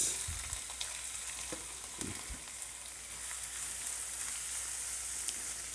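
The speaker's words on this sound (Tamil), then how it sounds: "இதை கொஞ்சம் நல்லா ஃப்ரை பண்ணி எடுக்கணும்." Shallots frying in oil in a pan after curry leaves and red chillies, a continuous soft sizzle with a few stirring scrapes near the start, quiet and steady with no talking.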